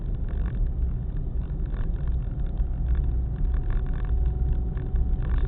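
A car drives through a residential neighborhood in Eugene, Oregon, giving a steady low engine and road rumble with no voices.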